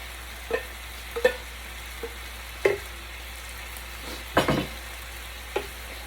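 Sliced red peppers going into a hot pan for a keto Chinese chicken egg roll in a bowl, giving a steady low sizzle broken by a few sharp scraping stirs, close and with no talking.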